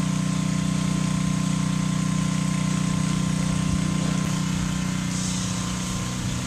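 An engine-driven pump drains water from a basement flooded by a long-leaking roof, its steady drone running close and loud without a break from start to finish.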